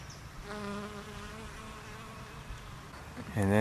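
A bee buzzes steadily and close by among peach tree flowers while pollinating them, its droning hum wavering in pitch and swelling louder near the end.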